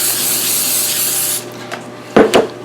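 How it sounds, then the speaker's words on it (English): A steady hiss of cooking spray onto paper on a baking tray runs for over a second, then stops, followed by a couple of brief rubbing sounds. "on top of the paper, we're going to give it a spray"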